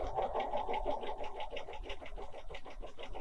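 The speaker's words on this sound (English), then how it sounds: "you can sew away quite happily for quite some time" A Bernina 300 series sewing machine stitches at a steady, rapid pace, producing a quiet rhythmic whirring with regular needle pulses throughout.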